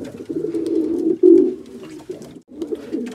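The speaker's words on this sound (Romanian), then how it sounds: "am decis ca porumbeii să-i țin aici, în orașul unde locuiesc" Pigeons coo in a city aviary, close and loud, with several low rolling coos in quick succession and brief pauses between them.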